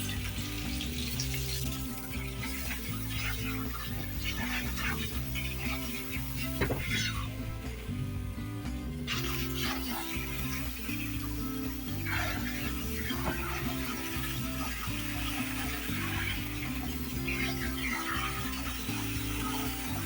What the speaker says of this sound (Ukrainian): вмикаємо воду і будемо дивитися, як це все буде пінитись